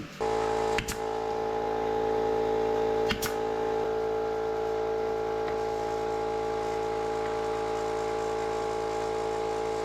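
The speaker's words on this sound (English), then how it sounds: "To make these straight, I am going to brad nail a board to the bench just to make a frame." A brad nailer firing twice into a board being fastened to a workbench to form a frame for a LEGO table, two sharp, close snaps a couple of seconds apart over a loud constant hum.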